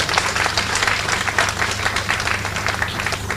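Dense, steady applause from a large audience at a workshop event, many hands clapping together in a continuous loud wash with no pauses and a low hum underneath.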